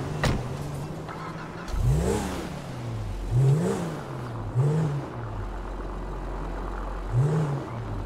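In the video game GTA 5, a car engine revs hard as the car pulls away, climbing through several rising surges with short pauses between them, loud and near, with no talk.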